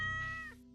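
A cat in Stardew Valley gives a single clear, drawn-out meow that falls in pitch and fades quickly.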